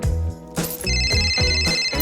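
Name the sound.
mobile phone ringtone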